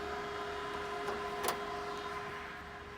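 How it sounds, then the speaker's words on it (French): Cooling fan of an old classic car running steadily, a continuous whirring hum with a tonal whine, close by, with a couple of faint clicks and no talking. "et là, t'entends le ventilateur."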